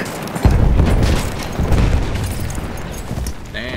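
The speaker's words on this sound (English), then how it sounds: "two of their grenades." Grenade blasts in the Battlefield 1 video game during a battle for Tahure, heavy booming detonations that start loud and roll on with dense gunfire-like rumble under them.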